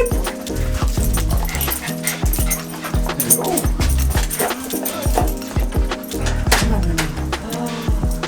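A pet dog yips and whimpers in short bursts, close by and fairly loud, over steady low vehicle rumble while a person talks affectionately to it.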